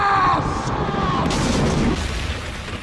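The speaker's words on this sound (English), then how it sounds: "Breaking out the lasers and explosions now." Cartoon lasers and explosions roar as one loud, continuous blast with a descending zap-like tone at the start, a big rumbling boom that slowly fades away, and faint talk underneath.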